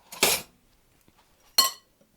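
A spoon clinking against a bowl of buttercream, two bright clinks about a second and a half apart, close and clear with silence between.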